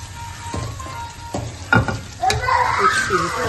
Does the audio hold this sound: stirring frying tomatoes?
yes